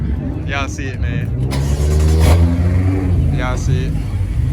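BMW M6 running on E85 fuel at a car meet outside a detail garage starts up and revs loudly, with a rising engine roar while people talk close by.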